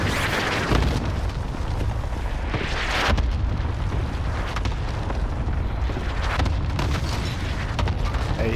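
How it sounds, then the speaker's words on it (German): Call of Duty: Modern Warfare gameplay during a cluster strike, with a continuous barrage of deep, rumbling explosions and booms rolling over one another, loud and close, with sharper blasts bursting out now and then. "Ey, hier explodiert gerade alles."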